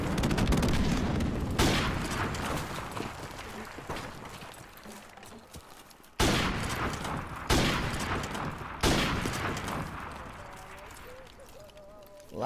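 Sniper rifle shots in a one-on-one video game match, several sharp, loud cracks spaced a few seconds apart, each followed by a long decaying rumble and echo, with quieter game sounds in between.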